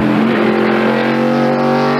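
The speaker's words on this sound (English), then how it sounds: "There's the Kodak film Chevy back at full speed up the hill" The Kodak Film Chevy stock car runs flat out up a hill during the 1997 Save Mart Supermarkets 300 road course race, a loud, sustained, close engine howl with a steady high-revving tone.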